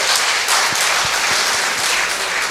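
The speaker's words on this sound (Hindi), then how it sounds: "एक बार जोरदार तालियां बड़े भाई के लिए आप निवेदित करें।" Loud, close applause fills a Hindi kavi sammelan poetry gathering, a dense continuous roar of clapping with a few low thumps beneath it throughout the short stretch.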